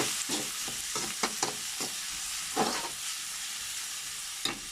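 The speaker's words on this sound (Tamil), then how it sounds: "வெங்காயம் வதங்கும்போது ஒரே ஒரு பச்சை மிளகா அப்புறம் எடுத்து வச்சுருக்க தக்காளி இதுலையும் சேர்த்து நல்லா வதக்கிக்கலாம்" Onion, a green chilli and tomato sauté in a pan with a steady low sizzle, broken by a handful of light stirring scrapes and taps at irregular intervals.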